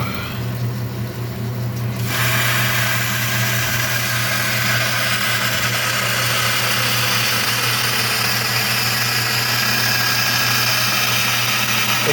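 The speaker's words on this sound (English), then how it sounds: "Got some ABS plastic here. We're going to cut this up." A power tool cuts through a sheet of ABS plastic, a steady loud whine and buzz starting abruptly after a couple of seconds of quieter motor hum and holding constant to the end.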